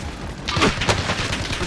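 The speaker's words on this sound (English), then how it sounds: "Receiving hostile fire." Hostile gunfire in Call of Duty: Modern Warfare, a brief flurry of cracking shots and a dull boom over constant battlefield noise, fairly close and loud.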